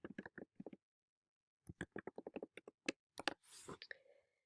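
Fingers type text on a computer keyboard, producing quiet, irregular bursts of clicking keystrokes separated by short pauses.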